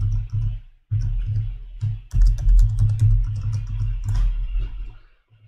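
Someone types on a computer keyboard close by in quick bursts of clicking keystrokes over a low electrical hum, with brief pauses between bursts.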